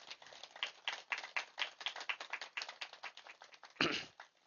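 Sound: audience clapping for Patriji

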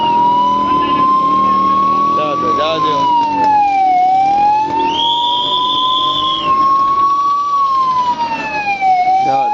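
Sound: ambulance siren

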